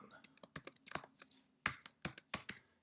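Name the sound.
typing code on a computer keyboard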